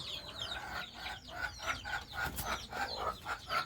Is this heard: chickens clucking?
yes